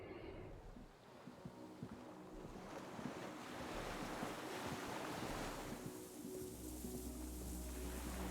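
Steady ocean surf from the Disco Elysium game world, with a broad continuous wash of waves and wind that swells slightly toward the end, heard alone without voices.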